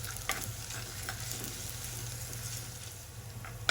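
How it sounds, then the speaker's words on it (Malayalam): Garlic and ginger sauté in hot coconut oil for a spicy fish curry, giving a steady, close sizzle with a few sharp stirring clicks from a spoon against the pan. "വെളുത്തുള്ളി ഇഞ്ചി ജസ്റ്റ് ഒന്ന് വഴറ്റി കൊടുക്കാം കേട്ടോ"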